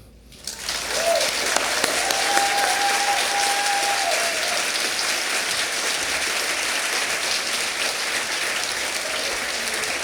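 Loud, sustained applause from a large storytelling festival audience, starting after a brief quiet moment and continuing steadily throughout, with a faint whistle-like tone early on.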